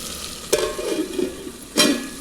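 Okra (bendakaya) cooking in a pan sizzles softly while a spoon stirs and scrapes it in two quick strokes, close and brief; no talking.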